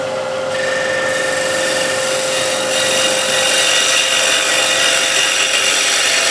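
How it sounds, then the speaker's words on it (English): A spindle gouge takes a gentle shear cut on spinning wood on a lathe, giving a steady, close, continuous hiss and rasp with a motor whine beneath and no talking. "I'll use a shear cut or push cut with spindle gouge"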